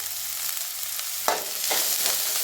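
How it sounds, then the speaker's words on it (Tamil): Chopped onions with salt sautéing in a pan for Tamil-style cauliflower fry, a steady close sizzle with a couple of brief stirring scrapes midway, no voices. "வெங்காயம் நல்லா வதங்கி வரணும்."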